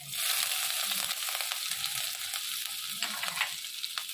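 Garlic, ginger and green chili frying in hot oil in a wok, a steady close crackling sizzle that holds at an even level throughout, with no voices.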